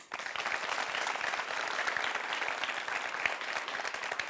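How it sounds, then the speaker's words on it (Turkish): A live audience at a Turkish talk show on lying bursts into steady, dense applause that holds at an even level throughout, with no speech on top. "Bir alkış alalım."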